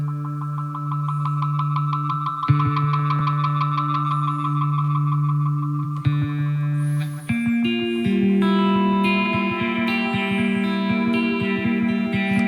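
Guitar notes run through a Cicognani Pompeii tape echo pedal, sustained chords and single notes trailing off in dense repeating echoes that blur into a reverb-like wash, loud and alone.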